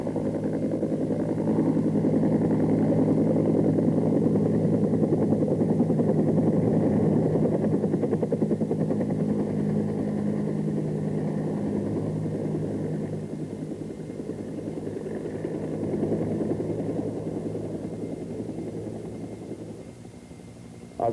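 A Bell AH-1 Cobra helicopter makes a heavily laden running takeoff, gaining forward speed before lifting off. Its steady, loud rotor and turbine roar holds throughout and eases slightly toward the end, with no voices.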